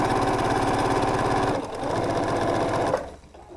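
Sewing machine stitching quilt fabric, a close, fast rhythmic whir that runs steadily, eases briefly in the middle, then stops near the end.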